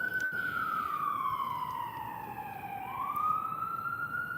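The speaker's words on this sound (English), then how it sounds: "There comes the ambulance for you, Jack." An ambulance siren wails nearby, its tone sliding down and then rising again as it passes, loud and steady above a background hiss, with no talking.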